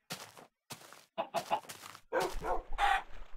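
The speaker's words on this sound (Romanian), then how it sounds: "găină." Chicken from the Minecraft video game clucking in short, separate bursts, a run of quick clucks building in loudness and ending with a higher squawk, heard alone with no talking.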